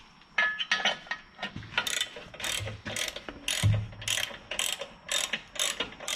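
Skid plate bolts on a Toyota Prado being snugged down with a ratchet, a close series of sharp metallic clicking bursts repeating in steady strokes.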